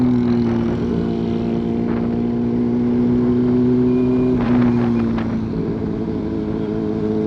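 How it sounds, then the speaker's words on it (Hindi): A superbike passes close by during a ride, its engine note rising and falling over a steady drone of engine and wind noise; the pass peaks briefly midway, and no talk is heard. "मुझे लग रहा है एक और सुपर बाइक है साथ हमारे शायद।"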